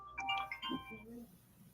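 A phone ringtone plays a short melodic run of bright chiming tones, moderately loud and close, fading into a low murmur of background voices.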